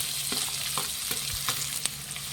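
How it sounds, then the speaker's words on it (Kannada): Finely chopped onions and curry leaves dropped into hot oil for bassaru, a dense close sizzle with several sharp stirring taps over a few seconds. "ಒಂದೆರಡು ಈರುಳ್ಳಿ ಸಣ್ಣಗೆ ಹಚ್ಚಿರೋಂಥ ಈರುಳ್ಳಿ ಹಾಕ್ತಾ ಇದ್ದೀನಿ"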